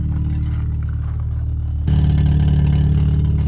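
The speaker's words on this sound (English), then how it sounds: "that rattling is the exhaust" A cheap Volvo S40 engine idles steadily with a low, rough rumble that steps up slightly partway through, with a faint rattle from a loose exhaust bracket underneath.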